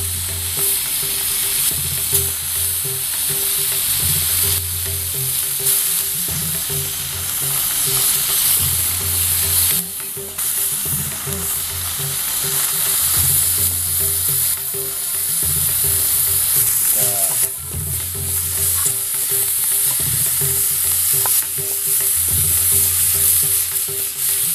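Grasshoppers deep-frying until crispy in hot oil, giving a steady, dense sizzle with occasional stirring scrapes that runs unbroken throughout, close and fairly loud with no voices.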